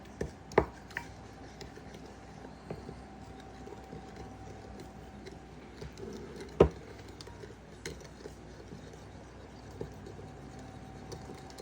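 Szechuan beef sauce ingredients being mixed in a bowl with a utensil, giving faint irregular taps and scrapes with a couple of sharper knocks over quiet room noise, close and unhurried.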